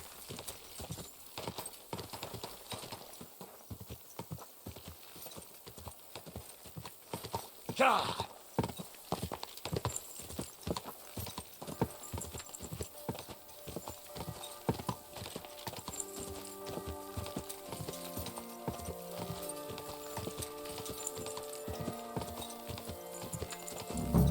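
Steady, rhythmic clip-clop of horse hooves in Kingdom Come: Deliverance II gameplay, close and clear, joined later by a soft melodic music layer underneath.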